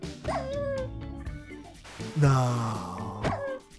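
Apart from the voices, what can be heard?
dog sounds in Minecraft video game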